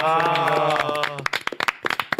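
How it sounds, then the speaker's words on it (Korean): An audience claps to welcome a guest on a political talk show. Speech comes first, then a short burst of scattered, fairly close hand claps takes over. "박수로 모십니다"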